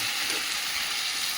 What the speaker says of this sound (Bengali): মাংসটা কিন্তু খুব সুন্দর কষানো হয়ে গেছে,